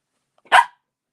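A single sharp dog bark, close and loud, standing alone in otherwise silent surroundings.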